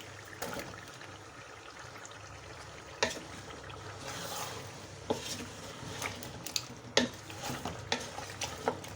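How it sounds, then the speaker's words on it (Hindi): Chunks of bottle gourd stirred into masala in a large pot, a soft sizzle under intermittent spoon scrapes and clacks against the pot, fairly quiet and close. "घिये को मैंने मसाले में अच्छी तरह मिक्स कर लिया है"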